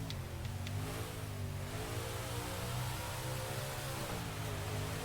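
A race car engine in the NASCAR 2005 Chase for the Cup video game holds high revs steadily under a constant whine, pitch rising and dipping slightly, with faint clicks early on.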